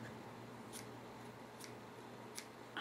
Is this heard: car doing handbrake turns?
no